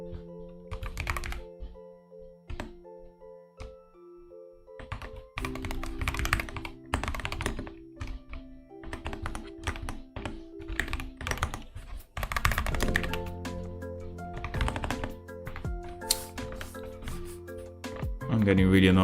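Steady, close clacking keystrokes on a new computer keyboard during a stretch of C++ coding, bursts of quick taps mixed with heavier thunks over a continuous tonal background.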